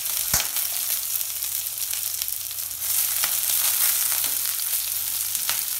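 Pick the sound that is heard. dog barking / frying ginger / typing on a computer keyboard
frying ginger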